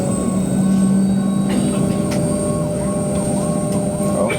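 An airplane sound effect plays on an online checkout queue page: a steady, loud engine roar and whine with a continuous droning hum and faint repeating tones, sustained throughout with no talk.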